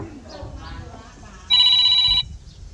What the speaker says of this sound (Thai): ถ่ายคลิปปุ๊บโทรศัพท์เข้าทันทีปั๊บเลย